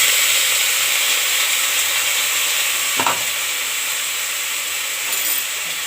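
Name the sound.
onion frying in a pan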